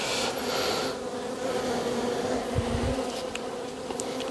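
A steady, close hum of honey bees fills the air at an opened beehive in an apiary during a frame inspection, with no talking.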